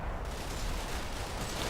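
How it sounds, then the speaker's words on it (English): Continuous gunfire and shooting rolls through a battle in the Combat Mission: Black Sea wargame, a dense, unbroken wash of distant small-arms and heavier fire with no pauses. "So lots of shooting for the entire duration of the turn here."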